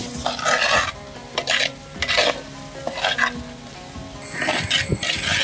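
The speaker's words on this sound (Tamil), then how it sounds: "வெட்டி வச்சிருக்கிற ரெண்டு தக்காளியும் ஒரு மிளகாவையும் அது கூட சேர்ந்து கலந்து வதக்க போகிறோம்" Chopped onions, two tomatoes and a chili are stirred and sautéed in a pan, giving a steady close sizzle broken by scraping stir strokes. A brighter, louder frying hiss swells near the end, with no talk.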